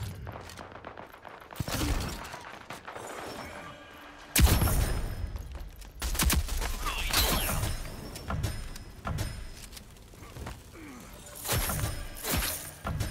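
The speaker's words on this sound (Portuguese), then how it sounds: "Já foi a granadeira no pé dos caras ali. Ela explodiu." A grenade explosion in the video game Rogue Company, a loud sudden blast with shattering debris, followed by scattered gunfire and impact bursts at varying distances over several seconds.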